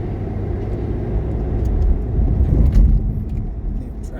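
Steady road traffic rumbles past in a suburban area, a low continuous drone that swells slightly as vehicles go by, with no talking over it.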